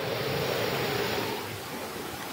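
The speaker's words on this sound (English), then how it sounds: "what I want to have in my game is the sound of a storm in the background" A stormy field sound effect loops in the Bakin game engine as background ambience: a steady, dense roar of wind and rushing noise, close and full, with no voices.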